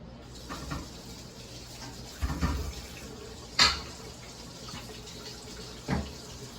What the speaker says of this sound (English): I just have to wash this spatula because I could use a clean spatula